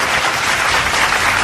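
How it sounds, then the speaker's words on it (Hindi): Loud, dense audience applause filling a hall, a continuous close wash of many hands clapping with no voices. "तालियों की आवाज गूंजती रही।"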